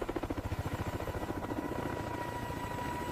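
A Mil Mi-26 heavy transport helicopter thrums with a steady rhythmic rotor beat, fairly faint and distant, the regular pulses blending into a continuous drone.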